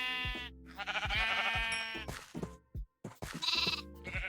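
Sheep in the Minecraft video game bleat repeatedly in short, wavering game-style cries that overlap one another, loud and close, with brief gaps between calls and no talk.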